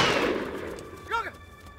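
A single rifle shot aimed at a matchbox about 200 metres away: a sharp, loud blast whose rumble fades over the first second, then a brief ringing whine near the end.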